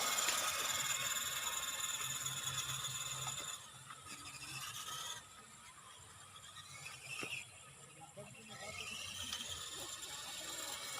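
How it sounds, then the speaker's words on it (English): RC Hontai C606 MB Jeep crawler (JJRC Q65) driving at full throttle, a continuous high whining gear and motor buzz that dips and swells as it passes. "Okay, wide open flyby."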